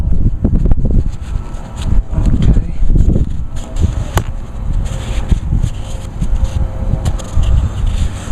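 Gusty wind blows across the microphone outdoors during work on a Briggs and Stratton Pulsa Prime carburetor, a steady low rumble with bursts and buffeting throughout.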